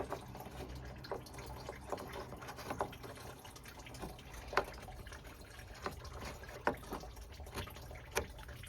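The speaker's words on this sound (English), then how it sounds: "once you get your drain going, get all the coolant out" Coolant draining from a 2009 Pontiac G8 radiator, a faint continuous trickle with scattered drips and small clicks over a low background, no talking.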